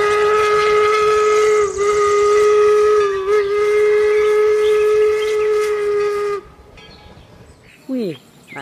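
A toy steam locomotive gives a long, loud, steady multi-tone whistle lasting several seconds, then cuts off, followed by brief quieter squeaks and a short descending chirp.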